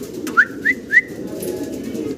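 Nasal tom pigeons with long double crests coo at a breeding farm, three short rising calls close together over a low, steady rumble of cooing.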